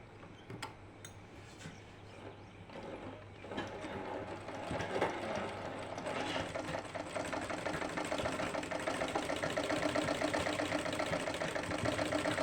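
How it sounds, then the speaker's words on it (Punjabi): A domestic sewing machine stitches joint lace onto fabric, running in a steady fast mechanical whir with rhythmic needle chatter that grows slightly louder and denser toward the end, heard close and alone. "ਅਤੇ ਇਹਦੇ ਉੱਪਰ ਸਲਾਈ ਲਗਾ ਦੇਣੀ ਹੈ ਇਸ ਤਰ੍ਹਾਂ"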